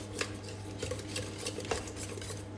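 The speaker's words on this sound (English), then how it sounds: "make sure that you mix all the butter in properly" Butter being mixed into a custard for ekmek kataifi, a metal spoon scraping and clinking against a bowl in quick, uneven strokes, close up.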